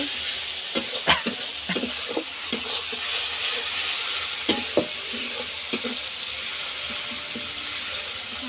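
Spice paste with turmeric and chili powder sautéing in a pan for a chicken curry, with a soft continuous sizzle broken by sharp, irregular clicks and scrapes of the spoon being stirred.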